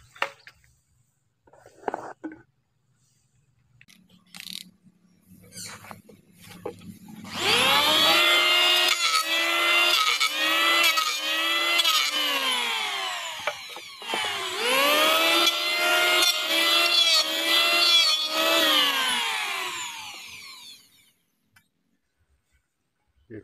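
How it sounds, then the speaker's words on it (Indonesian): A planer smoothing the wood on a boat built from a plastic drum runs in two long, loud motor bursts with a whining, falling pitch, separated by a brief pause, after some quiet handling noises. "Kita haluskan menggunakan ketam."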